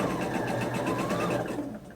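A sewing machine chain pieces quilt patches, running in a fast, even close-up whir of rapid stitches that slows and fades near the end.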